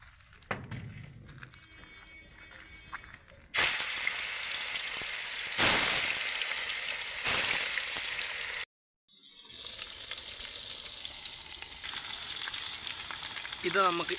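Chicken pieces fry in hot oil in a pan, a dense, loud sizzle that swells abruptly, breaks off briefly, then resumes, with occasional faint clatter nearby.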